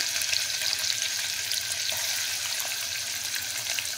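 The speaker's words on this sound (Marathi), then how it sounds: "तर आतां हांवें हांगसर तोपान तेल गरम केलां आनी तितून आतां हांव कांदो घालता." Onions hit hot oil in a pan for a Goan dish, giving a loud, steady, crackling sizzle that fills the whole stretch without any speech.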